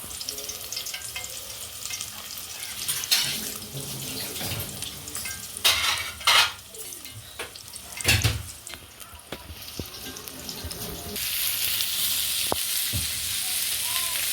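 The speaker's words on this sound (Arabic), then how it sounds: "انا حاطه الزيت وهحط حته بصلايه واحده بس كده تتشوح" A single onion sizzles in hot oil in a pot for red tomato sauce, with steady frying hiss, a few clanks and scrapes of stirring, and a brief running-water burst near the end.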